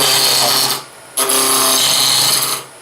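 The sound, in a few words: spindle roughing gouge cutting wood on a lathe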